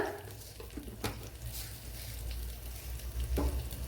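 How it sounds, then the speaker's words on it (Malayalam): Cumin seeds sizzle in a tablespoon of hot coconut oil with a faint, steady crackle and light stirring clicks throughout. "ഒരു ടേബിൾ സ്പൂൺ വെളിച്ചെണ്ണ ചേർത്ത് കൊടുത്തിട്ടുണ്ട് ഓയില് ഇനി ഇതിലേക്ക് ഒരു കാൽ ടീസ്പൂൺ ജീരകം ചേർത്ത് കൊടുക്കുക"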